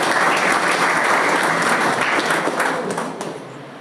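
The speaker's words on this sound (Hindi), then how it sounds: "इनके लिए भी जोरदार तालियां।" Loud, sustained applause from an audience at a one-day CSC workshop in Banka, a dense wash of clapping that holds steady and then tapers off near the end.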